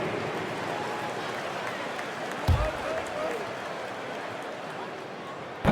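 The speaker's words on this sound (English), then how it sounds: "Let's have another big round of applause" Arena crowd applause in the NBA 2K24 basketball game, a moderate, continuous crowd roar and clapping with a couple of sharp thumps, an announcer talking over it.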